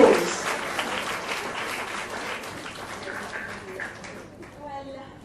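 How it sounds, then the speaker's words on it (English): Applause from an audience at an educational seminar, a broad clapping wash that starts loud and gradually thins and fades, with a voice speaking over it toward the end. "Let's have a thunderous round of applause for yourself because you are really unsung heroes."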